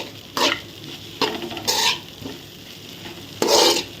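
Poha tossed with masala in a pan for upma over a low flame, a spoon scraping in a few loud separate bursts, with a soft sizzle running underneath between strokes.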